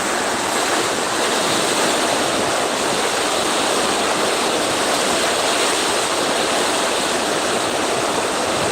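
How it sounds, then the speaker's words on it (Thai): A steady, loud roar of wind and heavy rain during a rainstorm in Yan Ri, Sam Ngao district, Tak province, Thailand, sounds without a break throughout, dense and unvarying, with no voices. "ฟังเสียงลมนะคะ"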